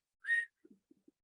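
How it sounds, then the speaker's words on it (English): A person gives a single sharp, loud attention-getting whistle that lasts a fraction of a second, followed by a few faint soft clicks in near silence. "people who whistle really loudly, or just like whistling to get attention"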